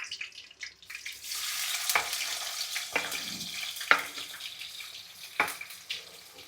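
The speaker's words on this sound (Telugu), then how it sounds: "ఇది కొంచెం వేగిన తర్వాత ఆనియన్స్ వేసుకుంటాం" Food sizzles in a frying pan on a home stove, a soft steady crackle broken by several sharp clinks and scrapes of a stirring utensil.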